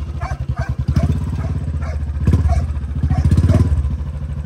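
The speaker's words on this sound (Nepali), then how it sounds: "भाइहरू चाहिँ पछाडि नै छ, बाइक स्टार्ट गर्दैछ होइन" A Royal Enfield motorcycle starts up close by and settles into a loud, rhythmic thumping idle with a deep, pulsing beat.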